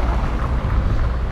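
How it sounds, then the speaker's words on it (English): Steady, loud wind gusts buffet the microphone outdoors on a walk in Merida, Mexico, a dense, continuous rushing roar with no talking. "It's actually pretty windy"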